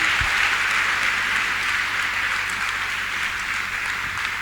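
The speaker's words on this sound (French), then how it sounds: "Acclamez." An audience at a church testimony gives steady, dense applause that holds at an even level for several seconds with no talking.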